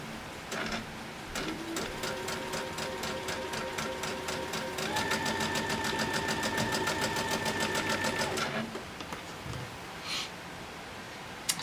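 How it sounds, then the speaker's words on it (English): A sewing machine runs steadily for several seconds, stitching fabric pieces straight down for a holiday mini table runner, its even motor whir and rapid needle ticking close and loud before it stops. "you can just line that right up and then just sew it straight down"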